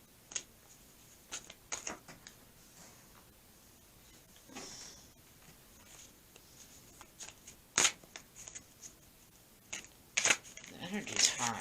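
Tarot cards shuffled in quick, scattered riffles and snaps during a quiet full moon reading, with several sharp bursts near the end over faint background.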